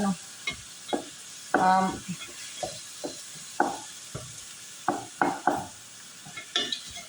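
Chicken sautéing in a pan without first being boiled, with intermittent stirring scrapes and short sizzling bursts in an irregular rhythm, close and moderately loud, no talking.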